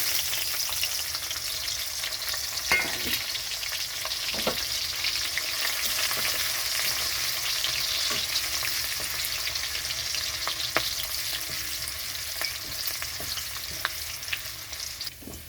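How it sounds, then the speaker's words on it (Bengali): Chopped garlic and chili sizzle steadily in hot oil left from frying chicken for chili chicken, a dense, continuous crackle with a few faint stirring clicks throughout. "চিকেন সব ভাজা হয়ে গেছে, তেলটাও গরম হয়ে গেছে। তো এখানে দিয়ে দিচ্ছি রসুন কুচি আর লঙ্কা কুচি।"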